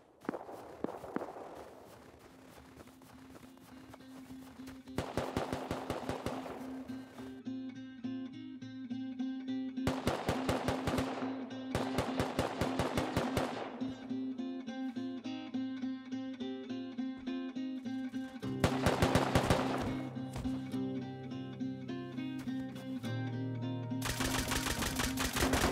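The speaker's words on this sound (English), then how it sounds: "I heard some shots over near satellite" Bursts of gunshots in the survival game Rust, fired near the satellite dish, come in several clustered volleys of rapid cracks, separated by gaps of steady background hum. Each burst is sharp and fairly loud.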